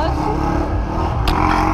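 An engine revs up loudly and steadily, a motorcycle accelerating close by, with a brief sharp burst partway through.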